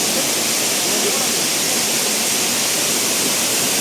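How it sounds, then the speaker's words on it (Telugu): Katika waterfall and nearby streams on a forest trek pour in a steady, dense roar of rushing water that holds close and loud for the whole stretch, with no break. "Water fall, water సెలయేళ్ళు, water sound తప్ప వేరే ఏం వినిపించట్లేదు."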